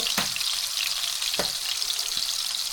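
Eggs fry slowly in a pan with a steady, loud, hissing sizzle throughout, broken by a few sharp knocks and taps from a utensil.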